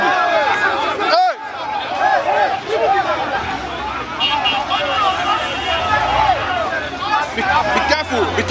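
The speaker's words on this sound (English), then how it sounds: "And the crowd there is unruly." An agitated, unruly crowd at a Yoruba Nation rally, a loud, constant babble of many voices with shouts rising out of it and traffic beneath. A reporter talks over the noise.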